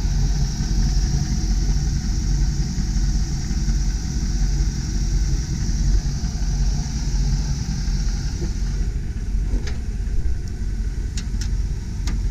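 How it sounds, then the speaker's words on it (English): A 1990 Ford E350 Four Winds motorhome engine idles steadily, a smooth, even low hum held at constant level for several seconds, with a few faint clicks near the end and no talking. "Engine's running smoothly."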